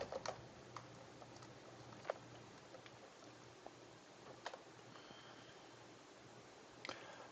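Computer keyboard typing, soft clicks scattered irregularly at low volume over a steady background hum, with no voices.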